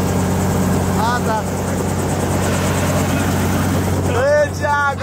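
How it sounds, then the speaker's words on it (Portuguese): A helicopter engine and rotor hum steadily and loudly close by, a constant droning whine. Excited voices talk over it. "Vamos de helicóptero"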